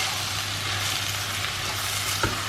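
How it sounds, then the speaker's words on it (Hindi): Garden vegetables frying in a pan, a steady close sizzle and hiss with a low hum beneath and a couple of small clinks near the end. "और अब इसमें मैं अच्छी तरह से इसको भून लूँगी"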